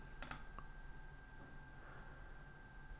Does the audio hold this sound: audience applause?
no